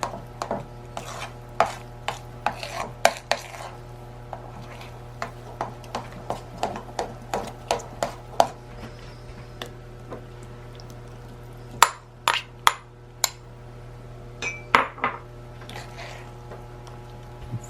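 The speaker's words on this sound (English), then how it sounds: "Folding the fruit into the batter." A spoon folds fruit cocktail into thick muffin batter in a 1971-style recipe, giving scattered soft clinks and taps against the bowl over a steady low hum, with irregular strokes throughout and no talking.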